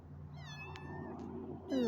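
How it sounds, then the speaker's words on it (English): Several small kittens meow in a short burst of rising, wavering cries, close and fairly quiet against a low steady hum, with a louder, sharper meow at the end. "They're obviously kittens."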